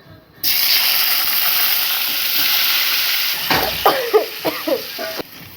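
Potatoes drop into hot oil with broken dried red chillies, setting off a sudden loud sizzle that hisses steadily, followed by a run of scraping stirring strokes near the end.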